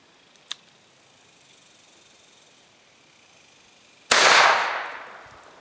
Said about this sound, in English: So here we go, shooting through the judge.